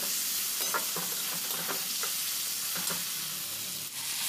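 Onions and green chillies sizzle and fry in a pan while being stirred, with steady hiss and a series of soft scraping strokes, close and fairly quiet, no talking.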